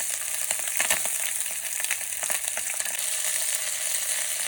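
Chicken legs frying skin side down in a pan for a Caribbean stew, giving a dense continuous sizzle with crackles and pops, close and steady, no talking.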